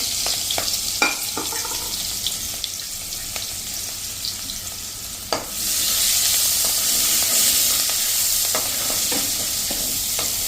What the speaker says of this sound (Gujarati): અત્યારે હું સૂકી ભાજી બનાવું છું. ટમેટા નાખી દેશું, આદુ નાખી દેશું.